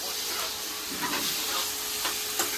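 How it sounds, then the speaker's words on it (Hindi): Paneer frying in a pan for a matar paneer dish, a continuous close hiss and sizzle with faint stirring, no talk. "यहाँ पे पनीर फ्राई हो रहा है"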